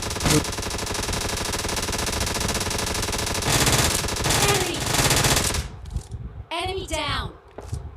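Rapid sustained bursts from a UMP submachine gun in a battle royale game, loud and continuous for several seconds, then breaking off into quieter game sounds.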